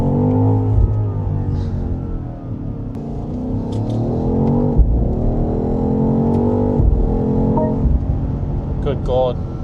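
A BMW XM hybrid SUV launches hard under launch control, its engine roaring up through rising revs with gear shifts breaking the climb, loud and close inside the cabin while someone talks over it.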